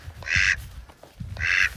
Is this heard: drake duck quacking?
yes